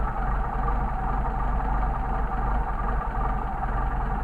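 A Mercedes 190SL engine idles on Solex carburetors that are being adjusted, giving a steady, even low rumble with a faint rushing of intake air and no voices.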